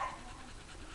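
A Puli dog pants steadily and close by, a continuous rapid breathy rhythm filling the whole moment with no talk over it.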